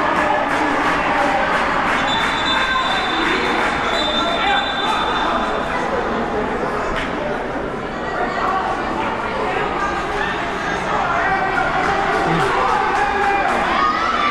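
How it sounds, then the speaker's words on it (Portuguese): An excited crowd of supporters cheers and shouts at a youth football final, a loud, constant roar of voices close by with commentary talking over it. "A torcida tá um pouco animada demais aí."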